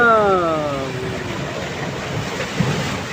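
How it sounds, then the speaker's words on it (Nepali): Sea waves churn against the hull of a boat, a loud broadband wash of rushing water and wind buffeting the microphone, with a fading tonal hum at the start. "कस्तो समुद्रको छाल आएको होला त यार"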